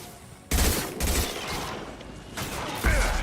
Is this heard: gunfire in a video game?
yes